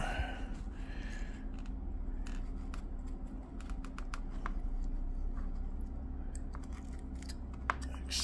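A knife carves cottonwood bark for a gnome's cheek, giving a string of short, crisp cutting clicks and scrapes against a steady low hum.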